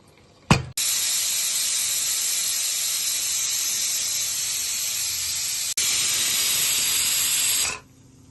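A loud, continuous rush of steam hissing from a pressure cooker whistle while cooking goat head curry, sustained for about seven seconds with a brief break before fading out.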